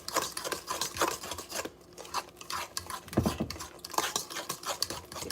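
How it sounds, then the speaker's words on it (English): A fork scrapes and clinks steadily against a bowl while mixing cornmeal batter, with quick, rhythmic rasping strokes that stay close and fairly quiet. "And we're just going to mix that all together. And I'm using a fork."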